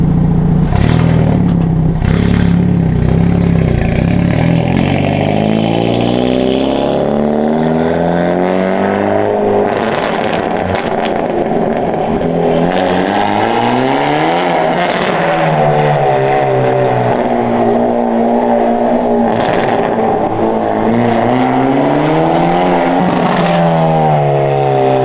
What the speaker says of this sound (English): I'll go ahead and get you guys some drive-bys to show you the exhaust.